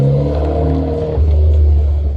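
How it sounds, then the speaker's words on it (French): Renault Clio RS cars drive past with a deep engine note that drops in pitch and swells, loud and close, with brief talk mixed in. "Trois Clio RS qui est passé."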